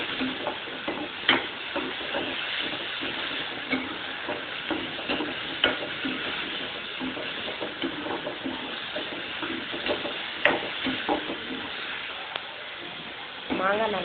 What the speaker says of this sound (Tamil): மாங்காயை போட்டு நல்லா வதக்கிக்கோங்க